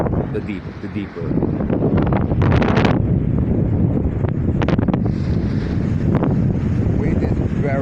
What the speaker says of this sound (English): Wind is very, very strong behind